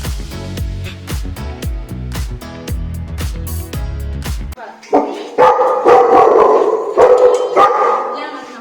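Dogs bark repeatedly and loudly at close range, mixing deep barks with higher yips. People speak amid the barking.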